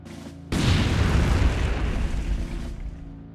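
An artillery shell fires and explodes in the Blitzkrieg video game on the Kharkov 1943 map: one sudden loud boom that rolls into a long, rumbling decay.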